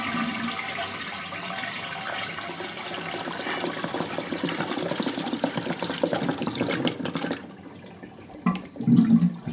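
A toilet cistern flushes with a loud, steady rush of water for several seconds, cut off abruptly, followed by quieter gurgling as it settles.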